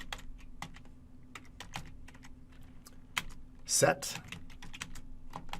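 Commands are typed on a computer keyboard in short bursts of close, crisp key clicks, ending in a louder clattering flurry, with a faint voice murmuring underneath.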